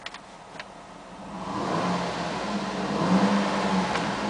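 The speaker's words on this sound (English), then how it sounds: "I'm going to rev the engine." A 2007 Cadillac Escalade SUV engine idles briefly, then revs up and holds a higher, steady drone for a few seconds, close and fairly loud with no talking.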